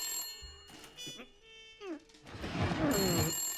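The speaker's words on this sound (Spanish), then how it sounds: "¡Niño, que te suena el teléfono!" A mobile phone ringing in the video game Blacksad: Under the Skin, a steady high electronic ring running under game sound effects and music, faint and somewhat muffled.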